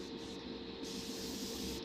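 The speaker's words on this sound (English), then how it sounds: "So I'm spraying at roughly 18 to 20 psi." Steady airbrush spray at roughly 18 to 20 psi hissing continuously at close range, an even, unbroken airflow with no talking, painting a Revell 1:112 Star Wars X-wing fighter model kit.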